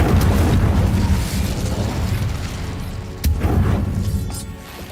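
Incendio fire spell cast in the Hogwarts Legacy video game, a loud roaring burst of flame over rumbling combat noise, with a second sharp blast partway through and no talking.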